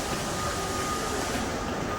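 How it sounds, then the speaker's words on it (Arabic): Metro train at a Salzburg station in Austria, a loud steady rumble and rolling rail noise heard close by, with no let-up for the whole short stretch. "ده المترو الداخلي"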